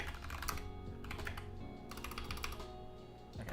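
Typing on a computer keyboard: rapid bursts of close, clicky keystrokes with brief pauses between them, and no talking.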